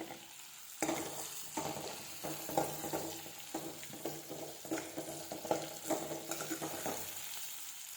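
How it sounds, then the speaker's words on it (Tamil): Salted onions sauté in a pan for an egg curry, giving a soft continuous sizzle broken by frequent scraping stirs of a spoon, close and with no voices. "வெங்காயம் நல்லா வதங்கி வரட்டும்"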